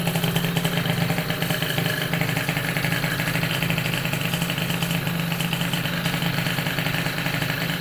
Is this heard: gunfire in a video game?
no